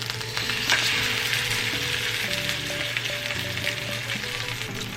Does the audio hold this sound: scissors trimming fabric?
no